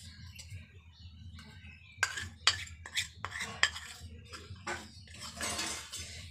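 A spoon mixes maida flour in a small bowl for patisapta batter, giving a few sharp clinks against the bowl and then a longer scraping stir, close up with no talking.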